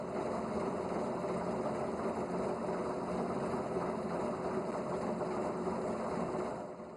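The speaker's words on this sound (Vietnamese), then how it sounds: "bị khuấy động bởi tiếng động cơ máy nổ hút cát" Engine of a sand-suction dredging pump on the Red River runs with a steady, continuous mechanical chug and drone, loud and close, with no talk over it.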